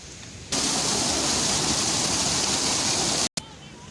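Fast-flowing water at a bathing spot in Taxila rushes as a loud, continuous broadband roar that starts abruptly and briefly cuts out near the end.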